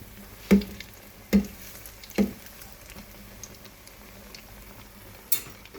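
Falafel frying in hot oil gives a steady soft sizzle, broken by three quick sharp clatters early on and one more near the end.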